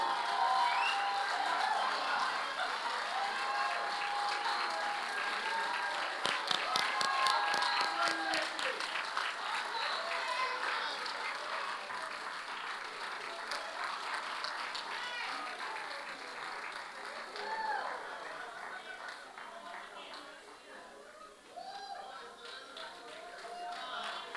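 Steady applause from an audience at the Caribbean Maritime University long service awards ceremony rolls on for over twenty seconds as an award recipient is welcomed, moderately distant, with voices occasionally heard beneath it.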